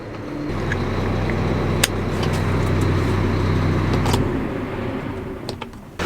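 An OXBO 4103 floater is driven in and parked, its engine droning loud and steady with a low hum before it winds down and cuts off, leaving a few faint clicks and knocks.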